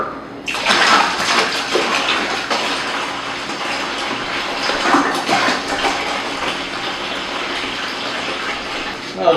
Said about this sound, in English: And then I will fill the rest of it up with the bottled water.